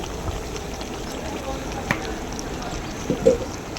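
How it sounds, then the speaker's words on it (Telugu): Chicken roast frying in a pan while being stirred, a continuous close sizzle with occasional scraping knocks, and a voice talking over it. "ఒక్కళ్ళే ఉడకకుండా మొత్తం తిప్పుతూ ఉండాలి"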